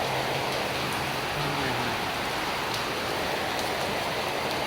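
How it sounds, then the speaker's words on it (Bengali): Steady rain falling during a stormy morning, a dense even hiss of drops on surfaces that fills the whole stretch, close and unbroken. "বৃষ্টি পড়তেছে"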